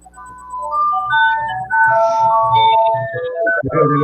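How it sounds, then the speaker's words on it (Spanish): An ice pop vendor cart plays a tinkling electronic jingle melody, loud and near, looping through a tune of bright chiming notes. "Llegó el carro de las paletas."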